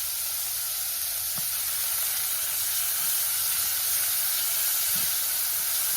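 Frozen onions sweating in a pan make an even, continuous hiss and soft sizzle, close and steady, with a couple of faint low knocks.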